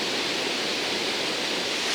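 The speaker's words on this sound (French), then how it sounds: "Donc maintenant, cascade de 25 mètres, toboggan de 20 et cascade de 40 en enchaînement." A 25-metre canyon waterfall on a solo descent, a dense, steady roaring rush of falling water close by, with no voices.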